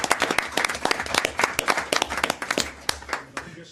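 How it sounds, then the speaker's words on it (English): Audience at a council meeting claps in a steady burst of applause lasting several seconds, individual hand claps distinct and close, with no talk over it. "Let's give them a round of applause."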